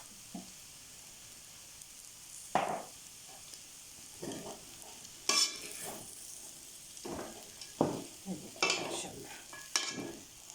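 Makhandi halwa with dry fruits and peanuts being stirred in a pan, a low sizzle with intermittent scraping strokes of a spoon at irregular intervals, fairly faint and with no voices.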